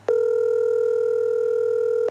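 A steady telephone dial tone sounds loud and alone for about two seconds, one unbroken hum that starts and stops abruptly, with no separate dialing beeps.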